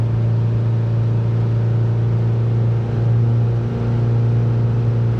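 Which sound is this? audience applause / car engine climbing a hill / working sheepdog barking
car engine climbing a hill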